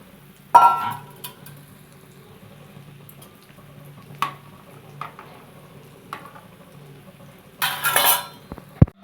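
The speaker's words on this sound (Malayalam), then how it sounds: "ആവശ്യത്തിന് വെള്ളം ചേർക്കാം" Water being added to biryani rice in a pot: scattered clinks and knocks of a utensil against the metal pot, a quiet bubbling background, and a louder burst of pouring water near the end, without talk.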